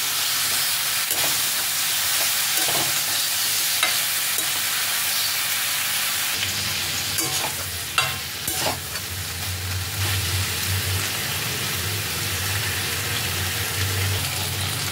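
Pointed gourd pieces fry in a pan with a steady, close sizzle and hiss, broken by scrapes and stirring clatter, with no voice over it.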